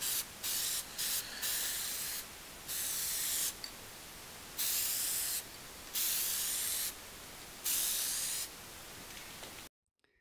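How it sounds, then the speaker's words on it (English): An aerosol can sprays paint along the side of a sicklebar mower in several long and short hissing bursts, close by, ending in sudden silence just before the end. "Or spray paint this whole side at least."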